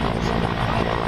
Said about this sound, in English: Mi-78 helicopter is showing the Garud commandos slithering from the helicopter